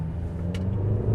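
A 2021 McLaren GT using launch control gives a short, deep engine rumble close by, holding steady and swelling slightly at the end.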